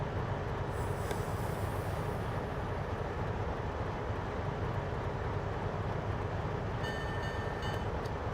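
Steady, loud rumble of a subway train running along the East Point branch in snowy winter weather, a continuous roar of wheels on track with faint high squeals and chimes near the end.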